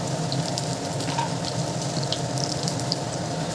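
Garlic and dried red chillies fry in oil in a pan, giving a steady, even hiss and sizzle that runs without a pause. The sound is close and moderately loud, with no talking over it.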